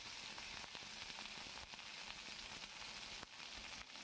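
Drumsticks (moringa pods) sizzle in hot tempering oil in a pan as they are lightly stirred, a faint, steady crackling hiss with occasional soft stirring touches.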